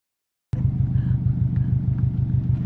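A car engine starts suddenly after a moment of silence and settles into a steady, close, throbbing rumble that holds evenly to the end, with no talking over it.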